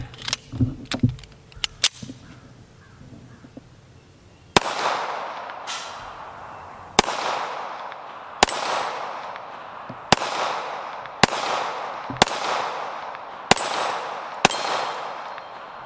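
A Sig Emperor Scorpion Carry Fastback pistol fires Tula ammunition at steel targets. Some quick clattering comes first, then about nine sharp, loud shots land at a steady pace, each followed by a ringing decay.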